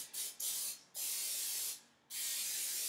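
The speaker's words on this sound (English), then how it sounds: "So then you're just gonna spray down your pan." Cooking spray hisses from an aerosol can onto a baking pan for fudgy brownies, in three or four loud, steady bursts with brief pauses between them, and no talking.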